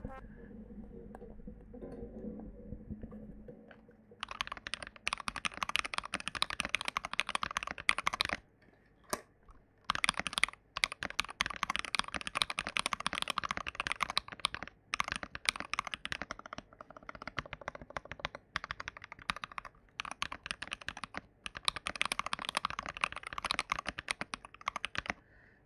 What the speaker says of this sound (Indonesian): Suaranya cukup clacky, bisa dibilang sangat clacky, dan nggak tahu kayaknya dari switchnya deh